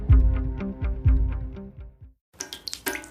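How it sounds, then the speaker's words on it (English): A ceiling cracks in a short effect: several sharp low creaks and snaps in a quick series, a moment of silence, then a cluster of brittle crackles. "That's the sound of a crack in the ceiling found at a home inspection."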